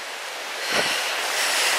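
A river rushes past huge boulders outdoors, a steady broadband wash of water with a brief swell partway through, fairly close and without voices.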